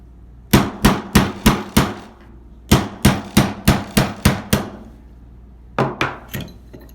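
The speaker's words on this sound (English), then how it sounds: "We're going to start with our front pin here, again 1/8 inch roll pin punch." Hammer strikes on a 1/8 inch roll pin punch driving a frame pin out of a CZ P10 pistol, sharp close metallic taps in quick even bursts of five, then six, then a final two, no talk.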